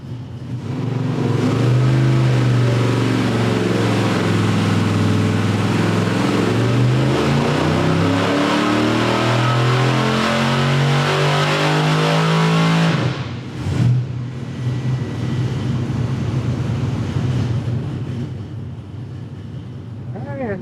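A 450 hp small-block Chevy V8 with a carburetor runs on a dyno, its loud, steady engine note climbing in pitch for about thirteen seconds, then dropping off sharply before settling into a rough idle.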